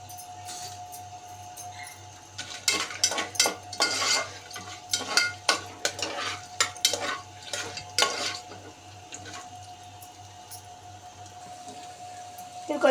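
Cloves, marathi moggu and bay leaf fry in a pan for bagara rice, with light sizzling under intermittent stirring and metal utensil clinks on the pan, close and moderately loud, while a quiet steady hum continues throughout.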